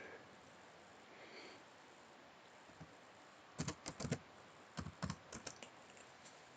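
Code is typed on a computer keyboard in short bursts of crisp, close key clicks, separated by quiet pauses against a faint background hiss.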